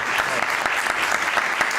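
An audience applauds Pau Massaló, creator and director of "The National Body", at a talk event, with steady dense clapping from a sizable crowd filling the whole moment.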